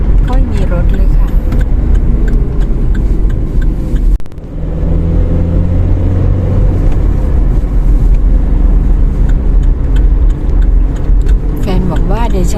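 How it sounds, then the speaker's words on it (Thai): A car driving fast on an empty road: loud, constant engine drone and tyre rumble heard from inside the vehicle, with people talking over it much of the time. "ทำไมแฟนถึงได้ขับรถไวขนาดนี้"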